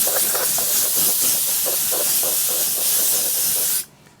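A steady, loud hiss of compressed air blowing spray paint off a surface close by, with faint rhythmic pulses in it, cutting off abruptly near the end.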